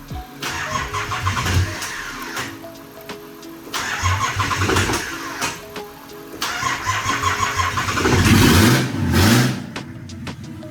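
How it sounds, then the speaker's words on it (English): The starter of a Nissan C33 Laurel with straight pipes cranks and grinds unevenly in several long bursts, the engine sputtering and catching roughly, loud and close with no talking. "That starter's doing some weird shit, man."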